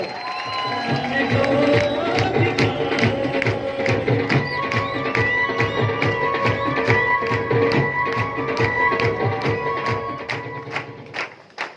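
A standing audience at a business gathering gives loud applause for Trilok Chand Chhabra, with clapping falling into a steady rhythmic beat over crowd noise and tonal sounds for most of the stretch before it thins out near the end.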